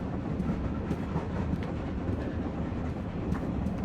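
Train rolling through a station in the video game South of the Circle, a steady low rumble with rhythmic clacking of wheels over rail joints, close and continuous.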